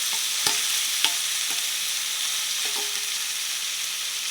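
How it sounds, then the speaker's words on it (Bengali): Fried potatoes sizzle steadily in a pan with a spice masala, close and loud, while a spoon scrapes and knocks against the pan a few times, the clicks spaced irregularly over the hiss, with no one talking. "মশলাটা কষানো হয়ে গেছে এবারে ভেজে রেখে আলুটা দিয়ে দিলাম"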